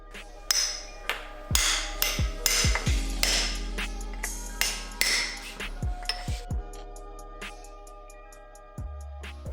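Sharp metallic hammer strikes on a car subframe flange, driving out a bushing on a Lexus IS300 / Toyota Mark II build, a dozen or so ringing blows in irregular bursts, close and loud, with brief pauses between.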